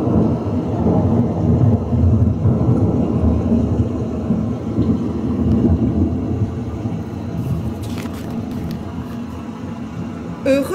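Thunderstorm sound effect for a children's story, with a continuous low rolling rumble of thunder and steady rain hiss filling the scene at a loud, even level, a brief crackle near the end.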